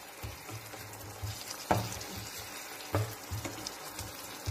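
Masala spice paste with salt frying in a pan for a dried fish and kochur loti curry makes a soft, steady sizzle, with a few sharper stirring scrapes at intervals and no voices.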